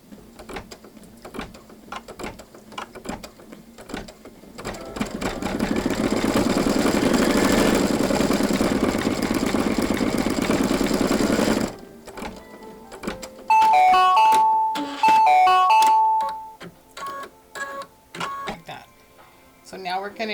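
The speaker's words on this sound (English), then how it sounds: "next step is going to be to stitch the center of the flower" A sewing machine stitches the center of a flower on a bunny pillow wrap. Scattered clicks and handling noises lead into a steady, dense motor whir lasting about six seconds, followed by short electronic beeps and more clicks.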